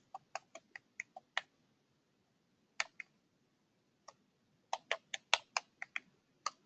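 Computer keyboard typing in a quiet room, short bursts of crisp close key clicks with pauses between clusters and no talk.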